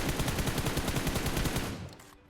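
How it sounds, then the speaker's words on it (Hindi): Automatic gunfire in the BGMI mobile shooter game rattles out as a rapid, evenly spaced burst of about twenty close, loud shots that stops abruptly at the end. "गोली चली"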